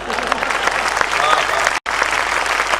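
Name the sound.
audience applause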